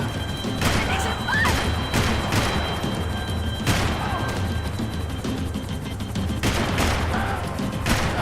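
Gunfire in the video game Max Payne 3, with repeated sharp shots and crashing impacts over a loud, busy action scene, while voices talk throughout.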